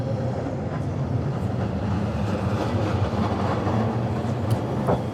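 A red tram in Kagoshima rumbles past steadily with a low, continuous rolling drone and faint clicks of wheels on rails, fairly close.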